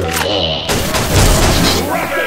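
Loud booming blasts from an explosion in the video game XSHOT, with a deep rumble swelling midway, mixed with excited talking throughout.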